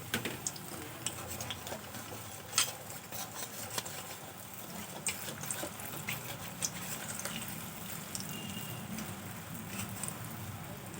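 Sweet potato pantua being deep-fried in oil while a spatula stirs them, giving a steady bubbling crackle with scattered scrapes and taps against the pan, close and fairly constant throughout.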